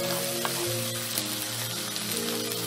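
Tomatoes sizzle steadily in a hot pan with ground cumin and black pepper for a shakshuka, a continuous close frying hiss with no talking.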